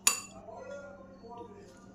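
A spoon clinks once against a bowl while mixing a puffed rice (muri) snack, followed by a soft continuous stirring and rustle of the dry mixture, close and fairly quiet.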